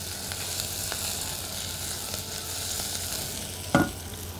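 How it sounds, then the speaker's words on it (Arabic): Caraway seeds and onion toasting in a pan, a soft continuous sizzle with faint stirring, then one brief louder scrape near the end, close but quiet with no talking. "هحط الكراوية مع البصل وهقلبها علشان تتحمص"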